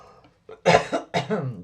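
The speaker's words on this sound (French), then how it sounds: "Tiens donc, je tousse, chakra de la gorge, les amis." A person coughs in a quick, close burst of two or three harsh coughs after a moment of near silence.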